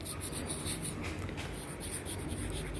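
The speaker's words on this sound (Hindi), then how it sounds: "आइए हम लोग लिखते हैं इसमें" Chalk or marker scratches across a board in a classroom lesson, a soft continuous rubbing and scraping with short rhythmic strokes, fairly faint and free of talk.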